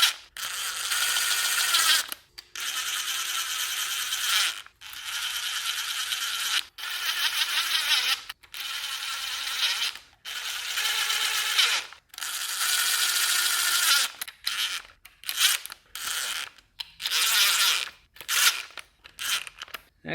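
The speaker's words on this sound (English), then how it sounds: "I'm just gonna snug these down a little bit." Engine bolts on a Kawasaki ZX14 motorcycle being snugged down with a ratcheting hand tool, heard as bursts of close rasping clicks separated by short pauses, growing quicker and choppier toward the end.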